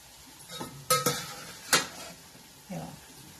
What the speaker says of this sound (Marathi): आता याच्यामध्ये जे फ्लावर वगैरे आपण घेतलेलं आहे शिजवून ते याच्यामध्ये घालायचं आहे